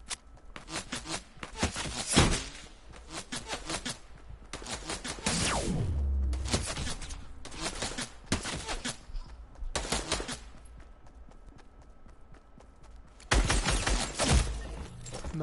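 Bursts of rapid video game gunfire, loud and close, fire in several separate volleys of a second or two each, with short quiet gaps between them and no talking over the shooting.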